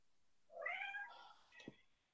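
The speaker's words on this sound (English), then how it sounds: "Don't you meow at me." An indoor house cat lets out a single short, quiet meow, alone in a near-silent room.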